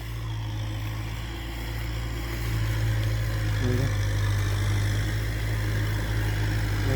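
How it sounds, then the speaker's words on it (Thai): A Kubota M6040 SU farm tractor engine runs steadily at a low idle, a constant deep rumble that swells slightly partway through, with no voices. "เห็นรถไถนา ก็เลยมาถ่ายรถไถนาดีกว่า"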